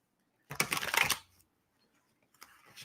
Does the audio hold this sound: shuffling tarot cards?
yes